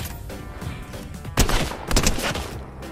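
Gunfire in a Fortnite match, a few sharp shots cracking mid-range against a busy background, two louder bursts standing out near the middle and end.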